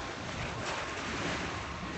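Ocean waves wash onto a beach in Israel, a steady broadband surf roar with wind buffeting the microphone, continuous and fairly close with no talking.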